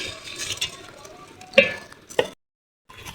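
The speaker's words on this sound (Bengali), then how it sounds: "চালটা ভালো করে ভেজে নিব।" Rice is fried and stirred in a pot for biryani: a few scraping strokes and sharp clinks of a utensil against metal over a faint sizzle, then a brief silence before the stirring resumes.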